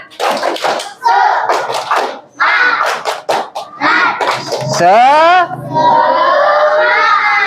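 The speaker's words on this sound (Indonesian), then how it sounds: "Coba gimana, tepuk semangat." A classroom of students performs tepuk semangat, an Indonesian rhythmic spirit clap: a run of sharp, close, loud claps in a patterned beat, followed by the group chanting together.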